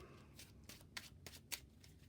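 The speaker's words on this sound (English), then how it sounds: "I shuffled my hero deck." A hero deck of cards for the Marvel Champions card game is shuffled by hand, giving soft riffling bursts with several sharper snaps, close and quiet with no talking.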